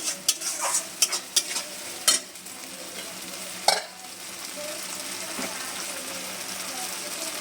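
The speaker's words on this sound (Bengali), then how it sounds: "মশলাটা ভালো করে এটা মানে কষে নেবো" Spice paste for a paneer curry frying in a pan while being stirred, with quick bursts of scraping at the start, then a steady sizzle running underneath.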